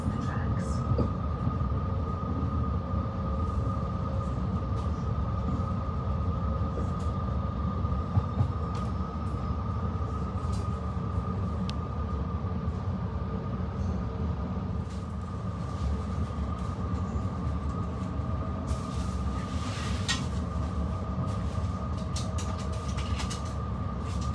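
Trenitalia passenger train pulling into Rapallo station on the Italian coast near Genoa, a steady close rumble of wheels and carriage noise with a faint whine running throughout, heard from inside.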